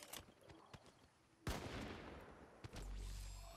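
Gunshots ring out in the Fortnite video game, a few faint pops early, then a loud sharp blast followed by a lingering rumble and another shot before a sustained roar.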